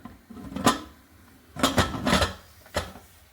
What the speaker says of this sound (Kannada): ಈ ಟೈಮಲ್ಲಿ ಕುಕ್ಕರ್ ಮುಚ್ಚಿಬಿಡೋಣ.